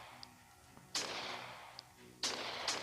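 Sniper rifle shots in the game Sniper Warrior, two loud sharp cracks about a second apart, each trailing into a short rumbling decay, with faint clicks between them.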